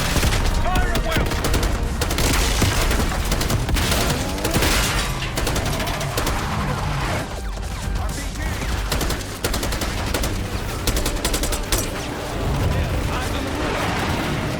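Heavy gunfire in the video game Call of Duty Black Ops 6: loud, rapid bursts and volleys packed together nonstop, with shouted voices mixed into the din.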